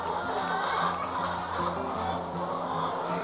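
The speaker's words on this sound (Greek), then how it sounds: "Οι κότες είναι ίσα Μπράουν, είναι μια ράτσα αγγλική" ISA Brown hens, an English breed about 30 weeks old, cluck steadily inside a chicken house, a dense chorus of overlapping calls that carries on without a break and stays fairly close.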